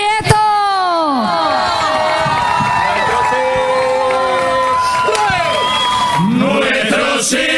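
A crowd cheers and whoops loudly with shouting voices overlapping, a lively sustained roar of many people.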